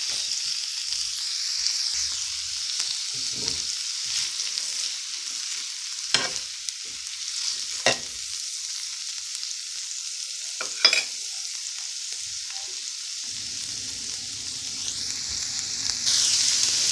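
Sweet potato hash frying in a pan, a continuous soft sizzle throughout with a few sharp spatula scrapes and taps, and a low rumble appearing near the end.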